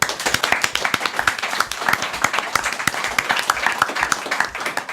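A small studio audience claps for the studio crew, a close, lively patter of individual hand claps overlapping into brisk applause that stays fairly even throughout, with a few murmured voices beneath.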